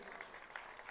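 Applause from an event audience welcoming a guest at a Bhojpuri film trailer launch, a steady, moderately faint patter of clapping filling the whole second.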